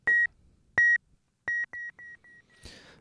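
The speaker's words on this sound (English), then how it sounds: "if I move the tape head or change the time while there's not any sound going over it, you'll hear it repeat faster but not time stretch." Tape echo from a UAFX Del-Verb pedal: a bright electronic tone repeats, then the repeats come quicker and fainter in a decaying chain, ending in a short burst of noisy hiss.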